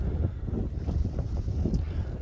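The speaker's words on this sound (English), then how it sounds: "It's a bit of a blustery southerly wind blowing." A blustery southerly wind gusts across the Town Quay fishing pier in Southampton, buffeting the microphone with a steady low roar and rumbling surges throughout, with no voices.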